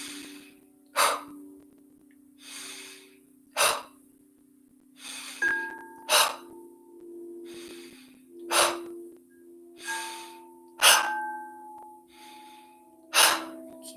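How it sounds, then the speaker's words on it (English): Slow guided breathing during a group meditation: roughly ten audible breaths, each a soft airy inhale followed by a sharper exhale, close and fairly loud over a steady low background hum, with no talking. "In through the nose, out through the mouth."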